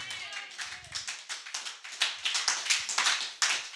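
Church congregation clapping in steady rhythmic unison to acclaim the Lord, crisp repeated claps at a quick even beat, moderately close, with a few voices briefly at the start.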